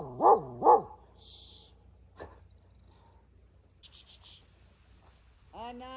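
Two loud barks from a dog close by, evenly spaced near the start, then a few faint chirps and a brief harmonic call at the end, outdoors beside the South Saskatchewan River with no talk.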